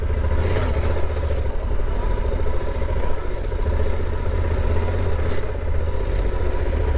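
A Yamaha Super Tenere motorcycle rides off-road on forest trails in George Washington National Forest, its engine a steady loud low rumble, mixed with wind buffeting and rattling, continuous throughout.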